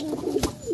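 A pigeon coos once at close range in a loft of single male pigeons, among them Pakistani and Giribaz breeds, with a short low-pitched call over faint background noise.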